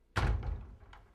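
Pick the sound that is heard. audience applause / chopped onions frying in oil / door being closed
door being closed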